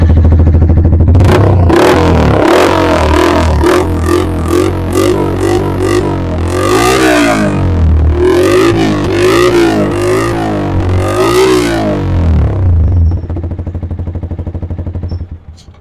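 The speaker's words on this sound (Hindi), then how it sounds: "ये था अपना एससी का एग्जॉस्ट" Yamaha R15 V4 motorcycle fitted with an SC aftermarket exhaust, revved up hard in repeated loud, close bursts that rise and fall for several seconds before cutting off near the end.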